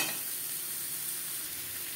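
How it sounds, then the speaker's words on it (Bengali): Boiled potatoes, seasoned with turmeric and salt, fry lightly in a pan with a steady, faint, hissing sizzle. Nobody speaks. "আলু আমি হালকা করে ভেজে নেব।"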